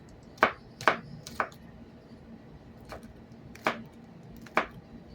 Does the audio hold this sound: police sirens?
no